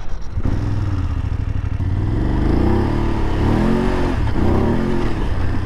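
A BMW F750GS motorcycle from 2022 idles close by after starting, a steady rumbling engine with rising and falling revs and a faint mechanical clatter, alone without talk.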